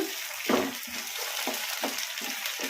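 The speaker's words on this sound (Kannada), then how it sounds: "ಟಮಟ ಚೆನ್ನಾಗಿ ಮೆತ್ತಗಾದವರೆಗೂ ಫ್ರೈ ಮಾಡ್ಕೊಂಬಿಡೋಣ ಈ ಥರ ಕಲಿಸ್ಕೊಂತ ಮೀಡಿಯಂ ಫ್ಲೇಮಲ್ಲಿ" Tomatoes sizzle over medium flame in a pan with lightly browned onions, a steady hiss broken by several scraping stirs of a spoon, close and alone without talk.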